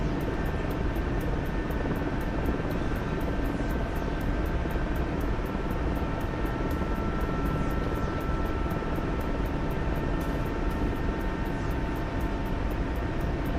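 A Corsair fighter plane's engine in a video game drones continuously and loudly, a steady propeller buzz with no letup and no voices over it.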